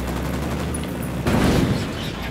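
A brief volley of gunfire from the video game Ghost Recon Wildlands rings out, a thudding burst midway through a steady, low background rumble.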